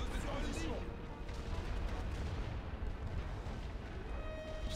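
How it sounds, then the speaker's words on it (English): Continuous heavy booming and rumbling fire from WW1 artillery barrages in a war game battlefield, dense and sustained throughout, with distant crackling shots mixed in and faint voices underneath. "Just keep launching artillery."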